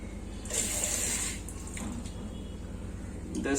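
Water pours over frozen Artemia in a container, a continuous splashing gush that runs steadily for several seconds at close range, with no talk.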